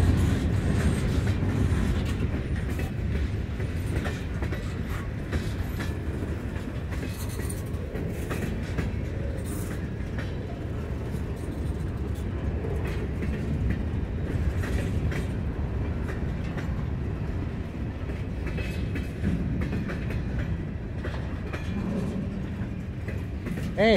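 A Norfolk Southern freight train passes with a mixed lashup of BNSF, KCS, CP and NS locomotives, a steady heavy rumble with rolling clatter of wagons that holds strong and even for the whole stretch.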